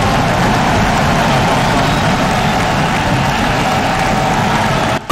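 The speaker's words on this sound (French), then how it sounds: "Presque inaudible sous les salves d'applaudissements de l'assistance" Audience at a presidential speech on diplomacy bursting into sustained applause, a dense, loud wash of clapping that holds steady and then cuts off abruptly at the end.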